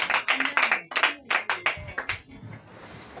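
A church congregation at a Sunday service claps in acclamation, with sharp, close, rhythmic handclaps in quick bursts that thin out toward the end.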